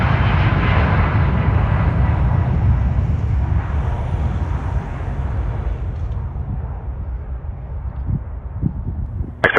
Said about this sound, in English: Clear for takeoff, runway 33 left, Aeromexico 693